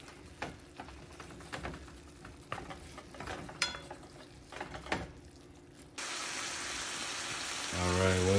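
Garlic being stirred into browning hamburger meat in a pan, soft repeated scrapes and knocks over a low sizzle, before a louder steady hiss takes over near the end.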